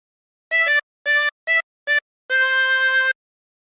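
Harmonica playing a phrase of Mary Had a Little Lamb: four short reedy notes followed by one long held note, loud, close and bright, with silence between notes and no talking.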